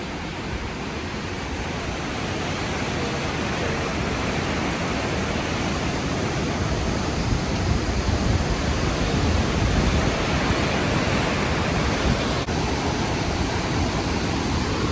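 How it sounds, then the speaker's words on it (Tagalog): A steady, dense roar of rushing water at Athabasca Falls fills the whole stretch, constant and loud with no breaks, like a waterfall heard up close. "Ayan yung Athabasca Falls. Diyan ang pasok ng tubig."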